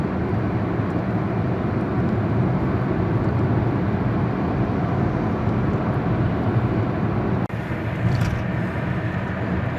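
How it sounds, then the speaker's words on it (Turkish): Steady road noise in Istanbul traffic heard from inside a moving car approaching the second Bosphorus bridge, a constant broadband rumble and hiss of tires and engine, with a brief dip near the end. "Ben biraz susayım istiyorsanız İstanbul trafiğini dinleyin."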